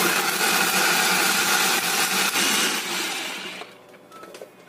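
Ginger and spices grind loudly and steadily in an electric food chopper, a dense whirring roar that winds down and cuts off near the end, heard alone without talking.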